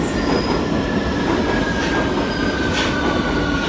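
A Victoria Line underground train pulls into a station platform with a steady, loud rumble and thin, high wheel squeals drawn out above it, continuing throughout with no voices.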